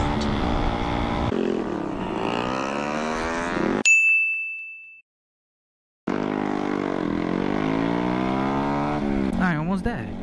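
Several Honda Grom motorcycles race on a night ride, their engines rising and falling in pitch close by and loud. A short electronic ding is followed by a brief silent cut, then the revving returns with a rider talking.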